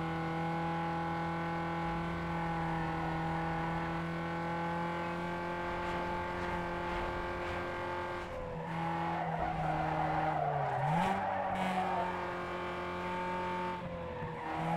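Race car skidding in NFS Underground 2: sustained engine drone with tire squeal and a sliding skid building near the end, engine pitch dipping then recovering, loud and close with no voices.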